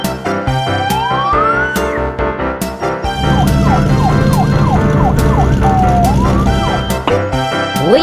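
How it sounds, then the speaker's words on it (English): An animated German police car siren wails in a loud, close two-tone cycle, with sweeping rising and falling tones layered over a bright cartoon music bed. "A German police car."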